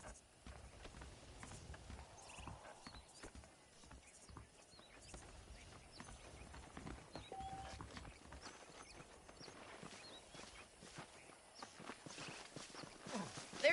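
Horse hooves clip-clop steadily in Red Dead Redemption as saddled horses walk along, a continuous rhythmic patter of footfalls at moderate volume with occasional whinnies and faint voices mixed in.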